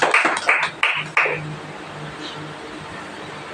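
Congregation clapping at a Sunday church fellowship service, four short bursts of applause in the first second and a half, then quiet room tone.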